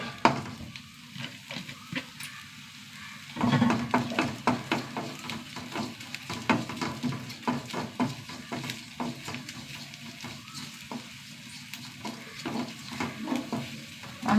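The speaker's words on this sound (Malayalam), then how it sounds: "നമുക്ക് ഉണക്കച്ചമീനൊന്ന് വറുത്തെടുക്കാം." Dried prawns fry in a pan at home, giving a steady crackling sizzle with scattered sharp pops and occasional stirring scrapes, moderately close and without talk.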